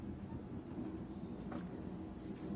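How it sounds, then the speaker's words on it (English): Interior of a moving passenger train, a steady low rumble and rolling drone with faint rattles and a brief higher squeal, continuous and fairly loud with no talking. "Being on a train."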